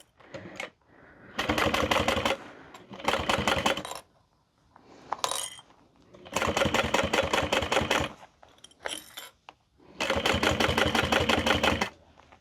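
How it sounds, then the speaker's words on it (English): A sewing machine stitches a handbag seam about 1/8 inch from the edge in three steady bursts, each a couple of seconds long, separated by pauses with small handling clicks. "we're going to be stitching about 1/8 of an inch from the edge"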